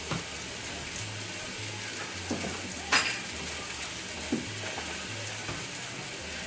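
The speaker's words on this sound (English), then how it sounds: "You can hear that sear." Steady sizzling hiss of a tomahawk steak searing on a hot grill, with a few soft clinks and taps of utensils scattered through.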